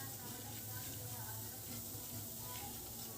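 Gram flour (besan) roasting in a hot pan for shira gives a soft, steady sizzle with faint stirring scrapes, continuous and close throughout.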